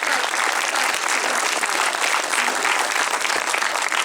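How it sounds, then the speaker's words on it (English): A large audience applauds continuously, a dense steady wash of clapping with no breaks. "Let's hear it for Devon Bostick."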